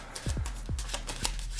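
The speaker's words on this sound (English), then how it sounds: "So I just give the cards a shuffle" Playing cards get an overhand shuffle, heard as a few quick, close riffling snaps and soft slaps spaced across a short moment, with no talking.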